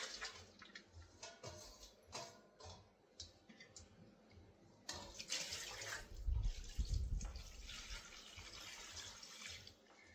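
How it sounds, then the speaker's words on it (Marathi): Leafy wild greens (khapri bhaji) get rinsed in clean water in a basket, giving soft intermittent splashes and drips that swell into a fuller sloshing burst midway, quiet and close with no talk. "तर याला मी आता स्वच्छ पाण्याने धुवून घेते।"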